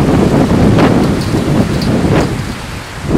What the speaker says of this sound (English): That's just 20 mile an hour winds right now